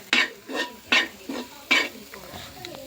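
Mutton curry is stirred in a pan as cooking begins, with a spoon making scraping swishes about every half second over a faint sizzle, close and moderately loud, with no speech.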